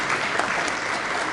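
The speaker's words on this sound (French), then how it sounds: "Vos applaudissements, s'il vous plaît." Dense, loud applause from an audience at a formal ceremony honouring Étienne Tshisekedi, a continuous wash of many hands clapping together.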